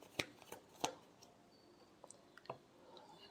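Tarot cards are shuffled in a few soft, brief riffling bursts, quiet and close, separated by light taps and rustles.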